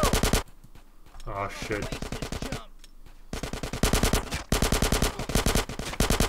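Rapid, loud automatic gunfire rings out in GTA San Andreas, with long bursts of repeated shots, a short lull, and more sustained firing, while a player exclaims over the shooting.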